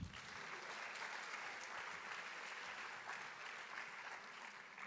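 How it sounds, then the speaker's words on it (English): Dense, continuous applause fills the room from a keynote audience at a travel bloggers' conference, a steady wash of many hands clapping at even loudness throughout, with no voices breaking through. "Kindly clap for me."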